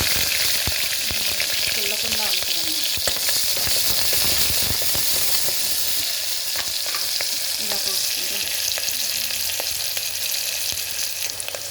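Chopped onions fry in hot oil in a pan for a home-cooked curry, giving a steady, even sizzle with scattered crackles and spatters throughout and no talking.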